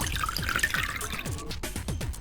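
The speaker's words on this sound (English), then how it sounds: "I'll just pour the froggy ethanol into the drain" Frog-soaked ethanol poured into a laboratory drain in the video game Virtue's Last Reward: a close, steady liquid splash and trickle with dripping, running continuously for a couple of seconds without speech.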